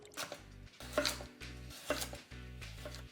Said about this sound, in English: I'm going to cut my vegetables before the protein